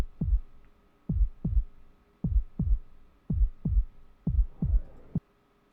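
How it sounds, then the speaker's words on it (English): Kick drum beating out a heartbeat rhythm in Geometry Dash level music: paired deep thumps, lub-dub, repeating steadily about once a second, close and punchy over a faint low hum, with no voice. "we start with a kick drum doing just doing a heartbeat"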